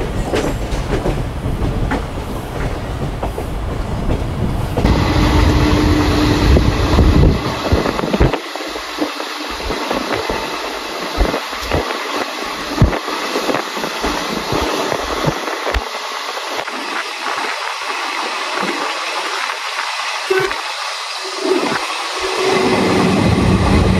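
A passenger train pulls out of Rampurhat Junction railway station, its steady rolling rumble and clacking wheels loud and continuous throughout, with a high whine running through the middle stretch and no talk.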